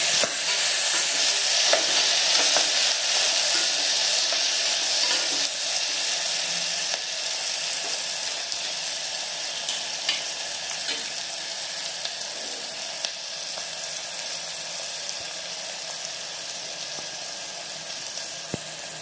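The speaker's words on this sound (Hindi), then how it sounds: "फिर बारीक कटा हुआ प्याज डालेंगे।" Finely chopped onion fries in a pan with asafoetida, giving a steady, dense sizzle and crackle with occasional stirring scrapes. It stays close and fairly loud throughout and eases slightly after the first few seconds.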